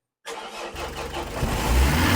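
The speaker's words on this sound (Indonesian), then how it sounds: "Setelah itu kita hidupkan mesinnya." A car engine cranks and catches after a short silence, then settles into a steady, rising idle close by, with no one talking over it.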